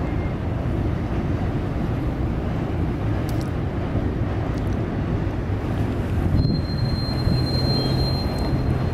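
An LS&I railroad ore train loaded with pellets rumbles past at Marquette Harbor, a steady broadband roll of wagons with wind buffeting the microphone and a brief thin wheel squeal near the end.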